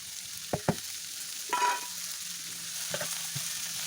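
Beetroot that has started to dry out is stirred in a pan, giving a few soft scraping clatters of a spoon and a brief sizzle over a quiet, low background.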